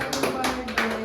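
A few quick hand claps, about three sharp slaps in a brisk rhythm, close and fairly loud over a steady fan-like hum.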